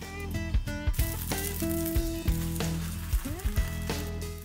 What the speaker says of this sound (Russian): Вливаем яичную смесь и жарим.